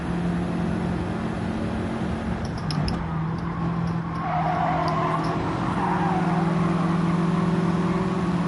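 A Gran Turismo 7 race car engine held at high revs, a loud sustained whine with tire squeal and shifting pitch through the whole stretch, no talk.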